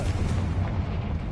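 Confringo blasting spell in Hogwarts Legacy going off as a loud, continuous booming rumble that fills the whole moment, deep and heavy with no voices over it.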